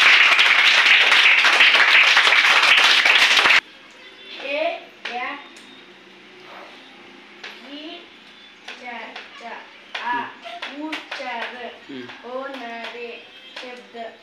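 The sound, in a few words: children clapping hands in a classroom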